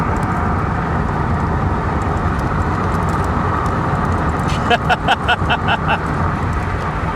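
A cut-apart Pontiac Bonneville turned into a kart, running and driving with a continuous rough engine and road rumble mixed with wind buffeting, plus a brief burst of clattering near the end.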